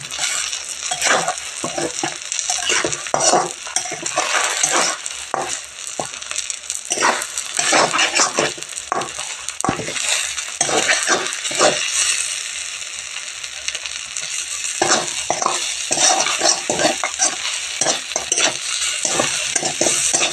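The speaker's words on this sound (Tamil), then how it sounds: "ஃப்ரைடாக இருக்குது இப்போ பரட்டும் நல்லா வேகட்டும்" Drumstick flower poriyal fries in a pan with a steady crackling sizzle, broken by repeated scraping and stirring strokes of a spatula against the metal throughout, close and fairly loud with no talking.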